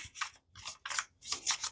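A deck of tarot cards being shuffled by hand, four quick riffling swishes in a row, close and crisp with short pauses between, no talk.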